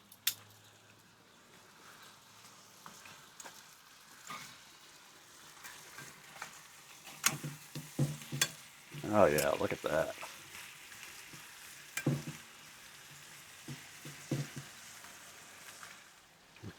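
Butter melting in a frying pan set on a grill grate beside steak, giving a soft crackling sizzle with a louder burst partway through and scattered pops. A voice talks briefly.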